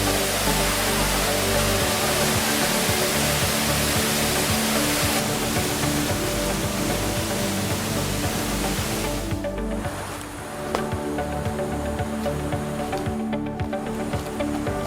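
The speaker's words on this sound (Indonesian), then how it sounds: "Ini dia nih Curug Mangkok. Ya Dik, ini air terjun yang dikenal ramah bagi pemula." Curug Mangkok waterfall, an Indonesian waterfall, pours as a steady, dense rushing roar with no break, loud and close, with no voices.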